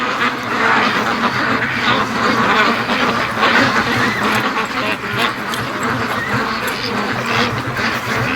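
Stressed free-range ducks quack loudly and continuously, a dense, overlapping chorus of many birds close by, with no pauses through the stretch.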